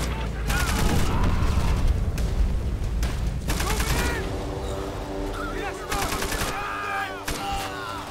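Loud, heavy gunfire in the World at War video game during a beach assault, repeated bursts of shots over a constant battle din, with voices shouting among the firing.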